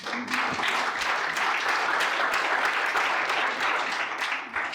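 A conference audience breaks into sustained clapping, a thick, steady wall of hands that carries evenly to the end, with a brief voice at the start.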